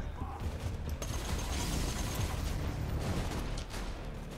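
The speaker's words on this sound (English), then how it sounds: "This is a totally awesome SMG and I like it." Dense, sustained SMG fire in Borderlands 2, a loud continuous rattle of shots blending into a noisy wash of combat that eases off near the end.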